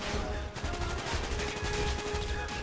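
Rapid gunfire from the Vorkuta level of Call of Duty Black Ops rattles in dense automatic bursts with a constant crackling rhythm and a short break, steady and loud throughout, with no talk.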